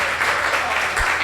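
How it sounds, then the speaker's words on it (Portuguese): A church congregation applauds steadily throughout, a dense continuous wash of clapping with a brief low thump near the end. "aplauda o nosso Senhor."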